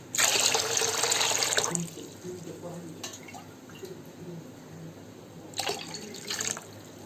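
Water poured from a glass onto raw rice for a homestyle chicken fry piece biryani, a strong splashing pour for the first two seconds, then quieter kitchen clatter and a second short burst of pouring near the end.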